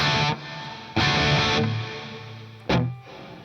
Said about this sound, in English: As you can hear, there's this slight delay